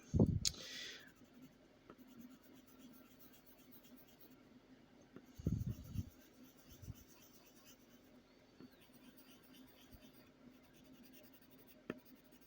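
Crayola colored pencil strokes on paper scratch softly and close up in a few short bursts, with quiet pauses and small taps between them while a Pokémon picture is colored.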